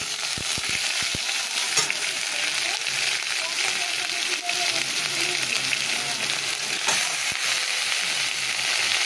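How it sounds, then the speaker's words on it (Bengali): Mustard seeds and dry red chillies sputter in hot oil as snake gourd fries, a steady dense sizzle running throughout with occasional clatter and voices talking over it. "সর্ষে শুকনো লঙ্কা ফোড়ন দিলাম, আর এই যে চিচিঙ্গাটা ভাজবো।"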